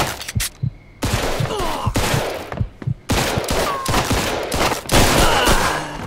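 Gunfire in the Mafia Definitive Edition video game: loud bursts of shots and fusillades come in several clusters with short pauses between them, close and sharp, with occasional ricochet-like whines.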